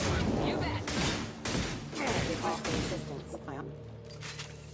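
Shotgun blasts and a concussion shot in the Mass Effect 2 video game, loud booming reports through the first few seconds with someone talking over the combat.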